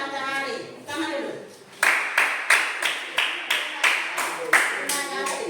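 Classroom of students clapping for a student group, rhythmic claps repeating steadily about twice per second after a looser start, loud and near with light voices underneath.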